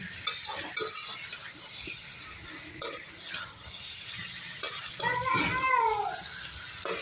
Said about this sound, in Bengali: দেখেছে পুরো লাল টকটক করে কষিয়ে নিচ্ছে।